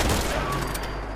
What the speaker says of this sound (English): That's heavy gunning going on there.